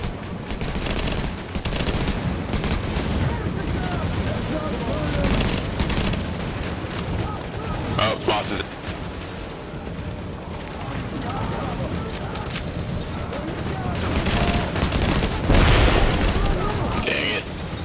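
Sustained firefight in The Division at a refugee camp mission, dense overlapping rifle and automatic gunfire with sharp bursts and booms throughout, close and loud, with players talking over the shooting.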